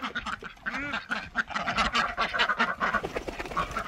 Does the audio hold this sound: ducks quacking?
yes